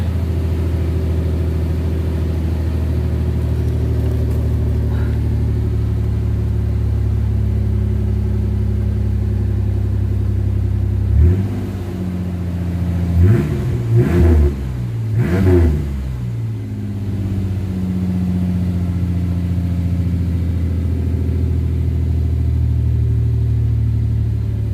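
A Chevrolet C10 pickup truck's engine idles steadily with a low rumble, then revs up in several short bursts midway before settling back to a steady idle.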